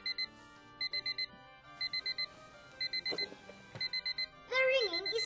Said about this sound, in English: The ringing is coming from this clock.